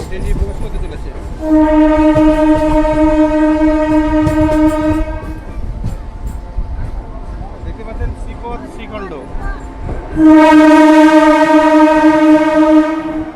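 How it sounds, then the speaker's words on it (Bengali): A new local train on the Katwa–Barddhaman line pulling into Sripat Srikhanda station, sounding two long, loud, sustained horn blasts over the rumble of the cars, with people talking nearby. "এই মুহূর্তে আমাদের ট্রেন ঢুকছে শ্রীপাট শ্রীখণ্ড রেল স্টেশনে"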